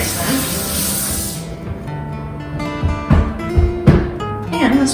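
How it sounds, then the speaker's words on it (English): Running water from a tap hisses loudly for about a second and a half as sticky hands are rinsed in a kitchen, then gives way to quieter handling clatter and a few knocks. "My hands got sticky, so I'm going to quickly rinse them."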